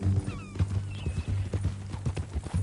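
Hooves of a horse in Red Dead Redemption 2 clip-clop in a steady, close rhythm for the whole stretch, with a brief whinny-like cry near the start.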